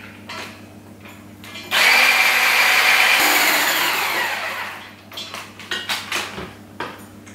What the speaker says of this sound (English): So go ahead and crack those. And just beat them until they are smooth.